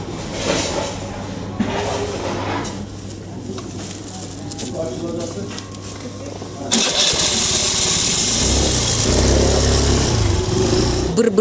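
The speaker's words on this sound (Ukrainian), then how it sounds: "щойно від'їхав мопед, який повіз одне з замовлень." A moped engine sputters and buzzes steadily, then grows louder and harsher partway through as it pulls away, with street ambience around it in Akyaka, Turkey.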